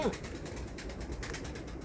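Pigeons cooing in a loft of white tumbler pigeons, soft low murmuring coos near and continuous under a faint background hum.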